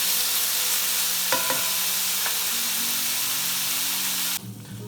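Steak strips sizzle loudly in a hot pan with a constant frying hiss and a few clinks of stirring, before the sizzle suddenly drops.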